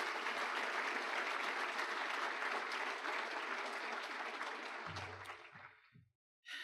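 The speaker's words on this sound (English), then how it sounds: "Let's give all of these folks a round of applause." Room full of guests at the Tyler Chamber State of the District Luncheon gives a round of applause, a loud, dense clapping that holds for about five seconds, then thins and dies away, followed by a brief low thump and a pause.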